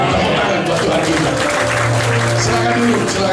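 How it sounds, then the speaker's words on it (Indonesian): Applause from a church congregation fills the whole stretch, a dense steady patter with sustained keyboard tones ringing beneath it and voices mixed in. "Tepuk tangan buat Tuhan kita"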